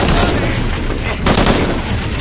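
Loud, dense gunfire rattles without pause in the video game Tomb Raider, a continuous barrage of rapid shots close up.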